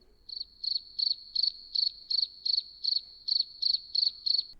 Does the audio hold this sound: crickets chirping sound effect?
yes